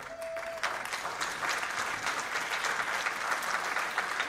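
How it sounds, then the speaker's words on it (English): Steady applause from an audience, continuous clapping that holds at an even level throughout. "thank you, Doris, for starting that applause of Jeff, because Jeff is a tremendous asset"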